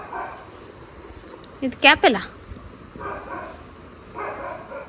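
A puppy gives a quick burst of several sharp barks near the middle, clear and close, with a person talking in a household setting.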